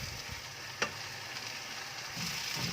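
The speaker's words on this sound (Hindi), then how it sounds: "तो मैं आपको ये अच्छी तरीके से फ्राई करके दिखाती हूँ, टमाटरों को भी कुक करके" Tomatoes frying in a pan for a Bengali fish sauce give off a steady, close sizzle with one sharp tick partway through and a slightly fuller crackle near the end, with no talking.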